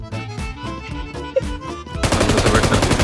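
Video game gunfire comes as a rapid, rhythmic string of loud automatic shots, then turns into a dense, continuous barrage of overlapping fire.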